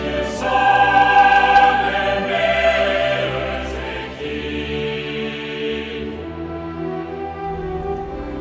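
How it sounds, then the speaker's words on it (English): The Champions League anthem from a soccer video game: a grand orchestral piece with sweeping strings and choir-like swells playing loudly and continuously, with no talking over it. "that's the sound of the Champions League"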